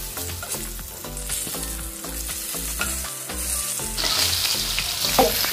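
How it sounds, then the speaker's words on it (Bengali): Sliced mangoes fry in hot oil with a loud, steady sizzle broken by short stirring scrapes and clinks, all close up and with no voices. "এবার আমি কেটে রাখা আমগুলোকে ভেজে নিচ্ছি।"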